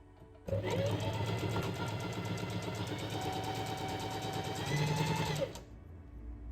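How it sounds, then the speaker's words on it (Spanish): A sewing machine stitches two pieces of fabric along a straight seam guide, a close steady mechanical whir running about five seconds after a sudden start, then stopping abruptly. "Porque así, si sigues esta línea recta, significa que estás cosiendo siempre a la misma distancia."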